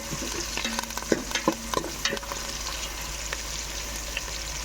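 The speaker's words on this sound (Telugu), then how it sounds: "గోల్డెన్ బ్రౌన్ కలర్ వచ్చే వరకు ఫ్రై చేసుకోవాలి ఉల్లిపాయలు" Sliced onions sizzle steadily in hot oil in a pan as they fry toward golden brown, with a few scraping stirs of a spoon near the start over a constant hiss, no voices.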